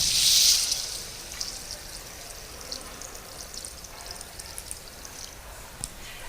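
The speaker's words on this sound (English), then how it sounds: "We're going to add water now." Water poured into a cooking pot for kitchari: a brief louder splash at the start gives way to a faint, steady trickle and light drips in a quiet kitchen.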